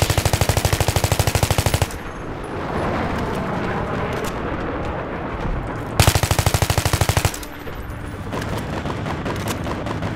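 Automatic gunfire from Battlefield 3 rattles in two loud, rapid bursts, separated by rumbling explosions and distant combat noise.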